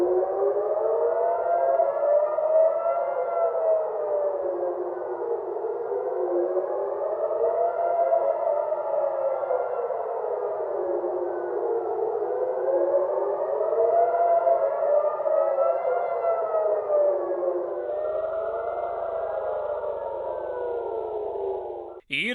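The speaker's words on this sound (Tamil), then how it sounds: "அறிவுறுத்தல் வழங்கும் வகையில் எச்சரிக்கை சைரன்கள் ஒலிக்கப்பட்டன." Warning sirens in Israel wail continuously with a slow rising-and-falling pitch sweep, loud and steady throughout, with a sharp cut near the end.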